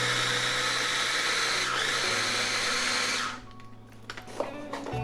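A food processor whirs steadily and loudly as it blends falafel mixture with the lid on, then winds down to a stop with a few clunks and rattles afterward.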